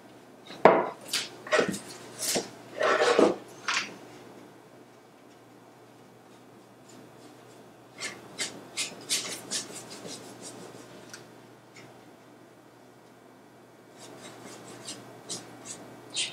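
A brush scrubs pigment onto a surface in quick raspy bristle strokes, close and fairly quiet, coming in clusters separated by pauses with no talk.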